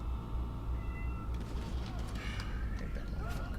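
A pet cat meowing at a closed door to be let in, with a couple of fairly faint, drawn-out meows over steady background hum and game sounds.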